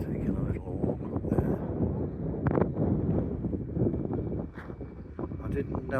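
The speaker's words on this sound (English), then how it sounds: "I didn't know or think it would be that windy" Buffeting wind rumbles across an external camera microphone beside a pink salt lagoon and salt works in Torrevieja during a tourist train tour, steady and loud throughout, with faint voices underneath.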